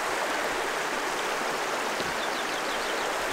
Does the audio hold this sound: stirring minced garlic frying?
no